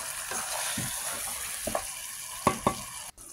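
Chicken roast meat sizzles in a pan as liquid milk goes in, giving a close, steady hiss broken by a few sharp stirring clatters near the end.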